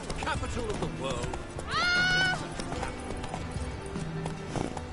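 Roach, Geralt's horse in The Witcher 3, with clip-clop hoof steps running under steady game ambience, plus a short whinny near the middle and talk over it.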